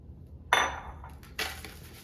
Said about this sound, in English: So that's gonna go right in the bottom of our pan here.